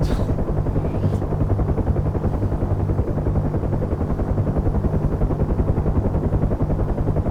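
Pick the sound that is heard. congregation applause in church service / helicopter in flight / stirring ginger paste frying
helicopter in flight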